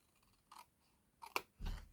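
Scissors cutting card stock for a pop-up diamond Z fold card, a few short close snips spaced across two seconds, the last cut heavier, with no talking.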